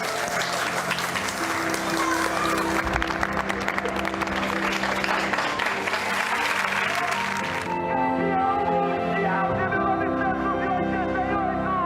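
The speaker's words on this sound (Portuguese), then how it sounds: "Vamos bater palmas para o Ayrton Senna?" Loud, sustained applause from a large audience honoring Ayrton Senna, dense steady clapping that stops abruptly partway through, leaving a quieter tonal background.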